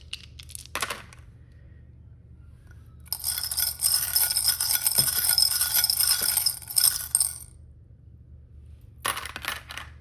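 Small dice rattle and clatter together in a burst of hard clicking, with a couple of brief taps before and after, close and alone.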